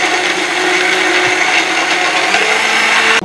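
A mixer grinder whirs steadily, grinding oil-sautéed masala to a medium paste for a Coimbatore-style goat curry, with a loud, continuous motor drone and no talk.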